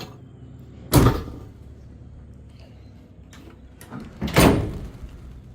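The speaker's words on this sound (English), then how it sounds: "Storage compartment, swing out, swing case." Lockable swing-out storage compartment in the bed of a restored 1995 Ford Lightning truck, making two solid thumps a few seconds apart, like a case lid swinging and shutting, over quiet background.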